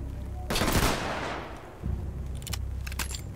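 A gunshot in the tactical shooter Ready or Not bursts out loudly and alone, then trails into a long decaying echo, followed by a few faint metallic clicks and rattles.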